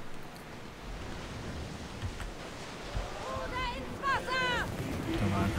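A ship sailing at sea in the video game Assassin's Creed Odyssey, with a steady wash of waves and wind rushing past the hull, fairly faint, under brief voices.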